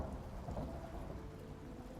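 Thunderstorm in the survival game ICARUS: steady rain and low rolling thunder fill the clip, a dense continuous wash with a deeper rumble swelling near the start.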